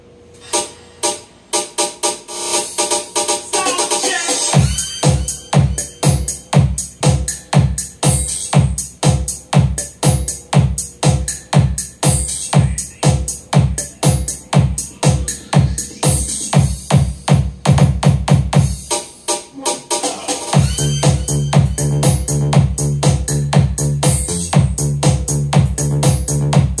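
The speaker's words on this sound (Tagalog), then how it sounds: "so yun yung tunog ng hindi dumaan sa crossover" Music played through a mid-high speaker with no crossover, a steady thumping beat with bright, harsh upper tones, loud and continuous throughout with a brief break near the end.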